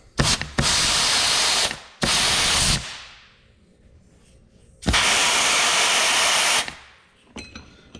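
Air gun blasting compressed air into the hydraulic pump of an Oliver tractor under rebuild: three loud, steady broadband bursts of about one to two seconds each, separated by short gaps, with faint mechanical clicks at the end.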